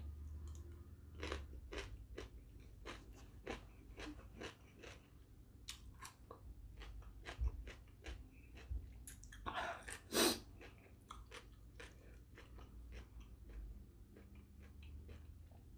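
Crisp, close crunching bites and chewing of a spicy, sour Thai-style salad made from kohlrabi in the manner of papaya salad, steady repeated crunches at an even pace, quiet and intimate with no talk.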